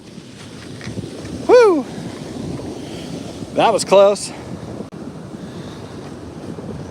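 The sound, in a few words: ocean waves surging on a beach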